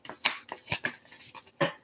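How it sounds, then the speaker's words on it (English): Cards are handled and drawn from a tarot deck, giving several short papery slides and flicks in quick succession with no talking. "I'm going to take one more card."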